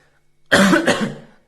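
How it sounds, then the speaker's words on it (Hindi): A single harsh cough, close and loud, breaking into two quick bursts and then trailing off. "सॉरी खांसी लग गई"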